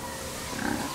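Short, low grunting from a pig, a few rough snorts building toward the end over a steady noisy background.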